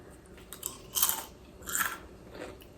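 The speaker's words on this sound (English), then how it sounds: "Can you hear the crunch?" Close, crisp crunching as homemade potato chips are bitten and chewed, in two loud bursts with quieter crackles between them.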